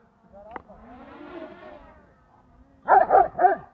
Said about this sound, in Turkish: Köpekler heyecanlandı da yine.